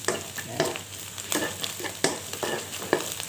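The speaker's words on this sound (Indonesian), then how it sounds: "Ini kemudian masukkan baksonya ya." Beef meatballs are stirred in a hot pan for fried rice, with steady sizzling broken by repeated scraping strokes of the spatula, close and fairly loud, with no voices.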